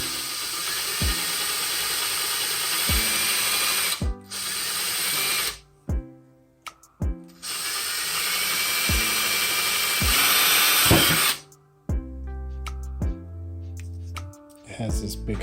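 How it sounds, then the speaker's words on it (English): A power drill with a 3/16 bit whirs loudly drilling a hole in a shower rod, in two long runs, stopping and starting between them, with rhythmic thumps and pauses in the background. "So I took a 3/16 drill bit."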